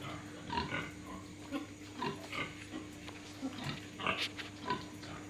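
Newborn piglets grunt and squeal faintly in a warming box under an infrared lamp, with soft repeated calls scattered over a steady background hum.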